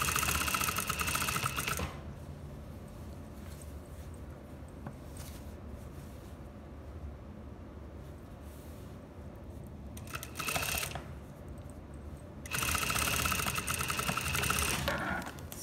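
A sewing machine back-stitches the half-inch shoulder seam of a lined dress, running in two loud bursts at the start and end with a short burst in between, separated by quiet pauses.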